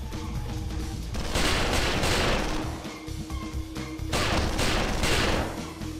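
AK rifle gunfire in the PC video game XIII, rapid loud bursts of shots repeating in two clusters, dense and close, with no talk over them.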